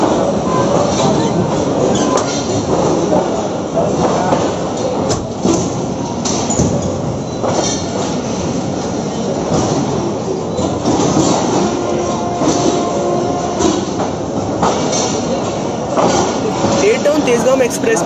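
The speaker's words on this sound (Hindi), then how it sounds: "8 डाउन तेज़गाम एक्सप्रेस ने रोड़ी से डिपार्चर करना शुरू किया" The Tezgam Express pulls out of Rohri Junction with a continuous rolling rumble, clattering wheels and occasional squeals. A voice talks over the train noise.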